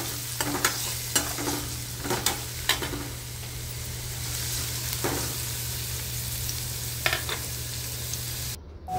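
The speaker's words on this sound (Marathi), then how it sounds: "कांदा टाकून घेते आणि कांदाही व्यवस्थित परतून घेते।" Finely chopped onion sautéing in a pan for bhendi bhaji, a steady sizzle with a run of brisk spoon scrapes early on and a few more later, close by and without speech.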